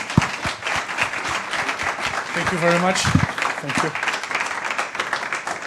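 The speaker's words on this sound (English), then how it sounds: "Please give a round of applause to our speakers." Audience at an industrial printing workshop applauding its conference speakers: a sustained wash of clapping from a full room, steady throughout, while a voice briefly says thanks over it.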